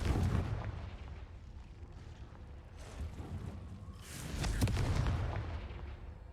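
Confringo blasting-spell explosions in the Hogwarts Legacy video game: several heavy, booming blasts with a loud burst near the start and a bigger, rumbling one later, over a steady low background.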